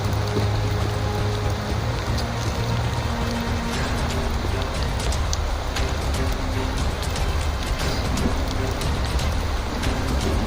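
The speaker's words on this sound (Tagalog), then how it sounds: "kahit sobrang lakas ng ulan" Steady, dense rain pours down with constant broadband hiss and low rumble, loud and unbroken throughout, with no voices.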